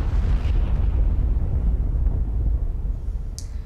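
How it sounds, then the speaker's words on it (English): A massive explosion that levels four city blocks in Brunswick West, heard as a loud, sustained low rumbling roar that fills the clip, with a brief sharp crack near the end. "an explosion has just taken out 4 blocks in Brunswick West"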